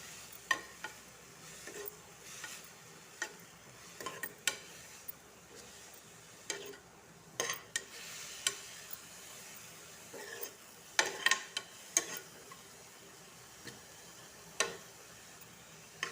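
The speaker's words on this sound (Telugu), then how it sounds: "ఇలా కొత్తిమీర అయితే బాగా కలుపుకొని ఫ్రై చేయాలి" Fresh coriander frying in a pan, a soft steady sizzle with a spatula scraping and tapping at irregular intervals, close and fairly quiet.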